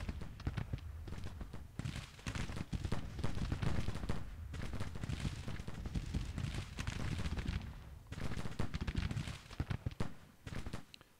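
Musket volleys and artillery fire crackle and thud in a Civil War battle at Pea Ridge in Grand Tactician: The Civil War, a continuous, fairly faint din of scattered shots and booms.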